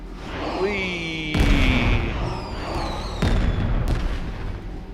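Fireworks burst in the Star Trek Online video game, with two sharp booms a couple of seconds apart among whistling, crackling effects over steady game ambience.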